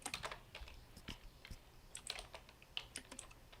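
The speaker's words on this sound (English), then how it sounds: "somebody's typing" A computer keyboard being typed on during a CET466 lecture, heard as a quiet scatter of irregular key clicks and taps, somewhat distant, with no voices over it.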